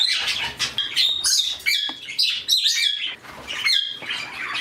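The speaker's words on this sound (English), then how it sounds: "The borks are nice birds." Rosy Bourke parakeets chirp and tweet in quick, overlapping bursts, close and lively, with short high whistles and chatter filling the space continuously.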